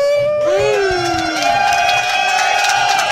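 A studio audience cheers and whoops during a break in a live talk show, loud overlapping shouts with rising voices, mixed with excited vocal calls rather than clapping.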